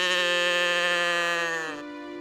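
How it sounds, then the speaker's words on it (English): A cow in the cartoon adventure game Fairy Tale gives one loud, sustained, bright moo that holds steady before dropping in pitch and fading near the end. "What sound does a cow make, kids?"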